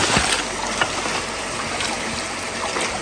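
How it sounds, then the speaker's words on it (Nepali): Water leaks and trickles into a ferry boat, a continuous rushing, splashy wash heard up close with a few sharper splashes near the start, filling the whole moment without pause. "यहाँबाट पानी चुइरहेको छ"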